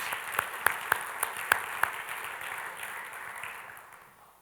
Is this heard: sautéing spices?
no